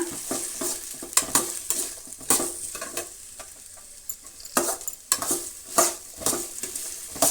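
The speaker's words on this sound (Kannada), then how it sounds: "ಈಗ ಇವನ್ನೆಲ್ಲ ಫ್ರೈ ಮಾಡ್ಕೊಳ್ಳೋಣ" Chopped beans and green chillies fry in a pan for gobi manchurian rice, with a steady sizzle broken by frequent scraping, clattering stirs of a spoon against the metal, close and fairly loud.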